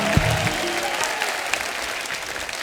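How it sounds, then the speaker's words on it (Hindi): Studio audience on a TV comedy show applauding guests, a steady roomful of clapping with a few brief voice sounds near the start. "एक बार जोरदार तालियां हमारे मेहमानों के लिए हो जाएं।"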